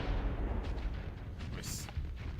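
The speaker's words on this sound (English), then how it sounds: "Can't escape the plasma batteries or torpedoes." Plasma batteries and torpedoes fire in a Starsector space battle, a dense run of booming blasts and crackling impacts layered over a rumbling low roar, loud and continuous for a couple of seconds.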